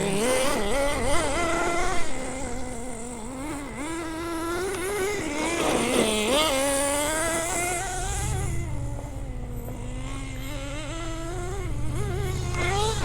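A vintage Associated RC10GT nitro RC car racing fast, its small engine giving a loud, continuous high-pitched whine that rises and falls as the throttle changes, close by and uninterrupted.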